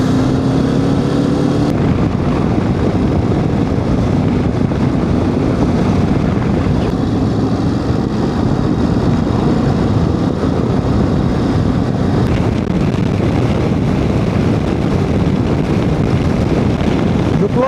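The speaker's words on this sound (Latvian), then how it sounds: "Klausies, te ir baigais vējš." Strong wind near the sea in Andalusia roars and buffets the microphone continuously during a motorcycle trip, a loud, rumbling blast with no pauses.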